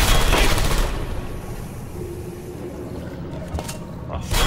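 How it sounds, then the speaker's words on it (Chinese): Rapid automatic turret gunfire from the video game Portal 2, a burst of dense shots at the start that fades into quieter game ambience, with brief clicks near the end. "他就一直开枪。"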